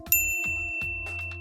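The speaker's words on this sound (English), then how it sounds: "ring the bell to get notified about our latest videos" A notification bell sound effect rings out as three bright, clean dings in an even rhythm, each with a short sustained metallic tone that fades quickly, clear and alone.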